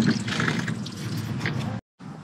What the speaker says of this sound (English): dump that into the radiator. So I'm dumping it all in.